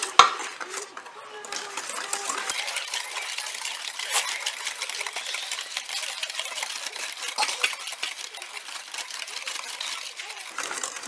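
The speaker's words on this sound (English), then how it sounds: "Mix it thoroughly." Dry ingredients for a yema cake being stirred in a bowl, a steady close scraping and rattling of utensil against the bowl that runs without pause for the whole stretch.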